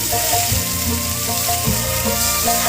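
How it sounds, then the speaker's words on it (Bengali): Pomfret fish sizzling in hot mustard oil in a frying pan, a loud, dense, continuous close-up hiss with a few stirring or shifting sounds; background music tones run underneath and nobody speaks. "তেলটা গরম হয়ে গেছে, এবার মাছগুলো দিয়ে দিচ্ছি।"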